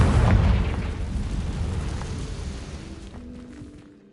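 A Confringo blasting spell goes off in Hogwarts Legacy, a loud close boom whose deep rumble rolls on and slowly fades over several seconds.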